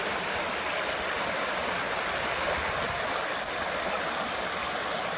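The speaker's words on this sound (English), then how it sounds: "There's some rapids further down there." Rushing river water tumbling over rapids in Kidland Forest, a steady broadband roar that stays constant and fairly close throughout with no voices.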